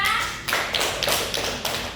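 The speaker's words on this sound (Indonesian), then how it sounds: "tepuk tangan dulu untuk kita semua" A school class claps hands in a few quick bursts, sharp slaps spaced irregularly, after a brief voice at the start.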